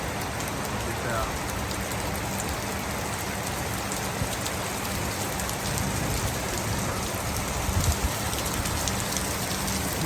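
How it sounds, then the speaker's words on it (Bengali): Heavy rain pours steadily onto a rooftop in Dhaka city under a stormy sky, a dense unbroken roar of drops close by that stays loud and even from start to finish. "প্রচণ্ড বৃষ্টি হচ্ছে"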